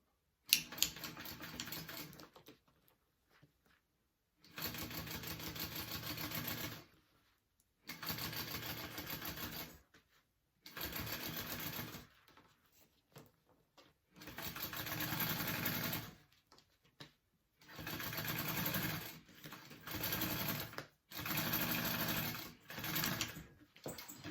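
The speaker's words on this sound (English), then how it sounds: "we're going to top stitch on the bottom middle half of the panel" Sewing machine top stitching across the bottom middle of a tote bag panel, running in several steady bursts of a few seconds each with short quiet pauses between them, close and clear with no talk.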